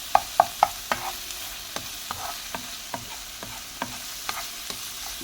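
Beef liver frying with garlic in a pan, a steady low sizzle under repeated stirring clicks and scrapes of a utensil, quick taps at first then sparser strokes, close up with no talking.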